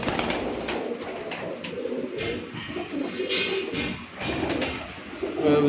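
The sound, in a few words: Sialkoti pigeons cooing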